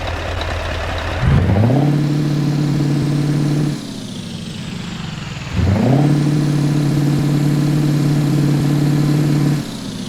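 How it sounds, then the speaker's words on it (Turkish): Scania Next Gen R450 truck engine in Euro Truck Simulator 2 starting up and idling with a steady low hum, dropping off briefly and then restarting for a second long, loud stretch of running, with no talk. "Nasıl motor sesi?"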